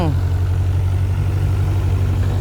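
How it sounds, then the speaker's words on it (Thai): An old excavator's diesel engine runs loud and close, with a steady low rumble and a slight rise in pitch at the start as it is revved. "อย่าดับอย่าดับ เร่งเครื่องหน่อย เดี๋ยว ปั๊มมันจะพัง"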